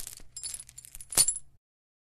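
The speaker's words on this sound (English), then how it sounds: "Chain sounds. I need chain clinks or something." Close metallic chain clinking and jingling for about a second and a half, with one brighter clank, then silence.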